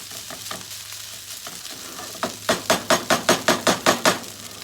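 Okra rice frying in a skillet, a soft steady sizzle broken by a quick run of about ten rhythmic scraping stirs near the end, close and clear.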